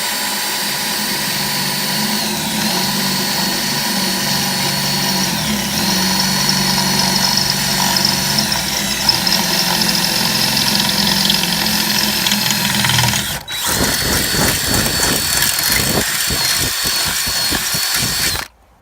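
Power drill boring a hole in a new-style Chevy Silverado's door for tow mirror mounting, a loud steady whine running continuously, then shifting to a rougher, grinding tone near the end before stopping abruptly.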